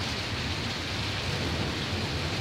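Heavy rain mixed with hail pounds down during a violent storm in Germany, a dense, steady roar of impacts on surfaces that stays loud and unbroken throughout, with no voices.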